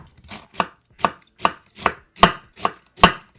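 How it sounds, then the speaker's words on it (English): Half a cabbage being thinly sliced with a knife on a cutting board for sauerkraut, eight crisp, evenly spaced chops close up, each a sharp crunch with quiet pauses between, no voices. "Cut the cabbage in half. And then just thinly slice it."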